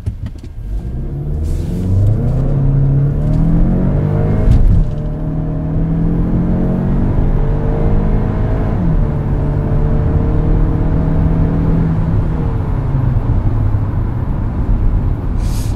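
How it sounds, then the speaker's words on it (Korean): A Hyundai Santa Fe 2.0 turbo petrol engine pulls hard under acceleration up a slight incline, a loud steady drone rising in pitch through the gears, with a brief shift partway through. "급가속을 한번 해보도록 하겠습니다"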